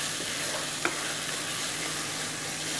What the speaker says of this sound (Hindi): प्याज को मैं यहाँ ब्राउन होने तक अच्छे से भून लूंगी